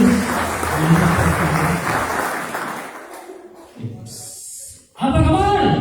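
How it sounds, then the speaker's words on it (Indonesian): An audience at an eco farming training session claps for Pak Agus, a dense burst of applause for about three seconds that fades out before a voice and a loud thump follow. "Boleh berikan tepuk tangan yang banyak buat Pak Agus"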